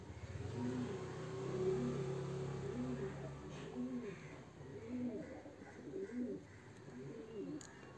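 Fantail pigeons cooing in repeated low rolling coos, several in a steady rhythm, close by, with faint engine or traffic noise behind them.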